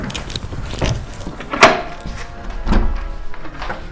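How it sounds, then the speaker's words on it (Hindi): A door is opened indoors at home: a solid thunk and rattle of the latch and door in the middle, with shuffling and handling noises around it. "खोल दरवाजा।"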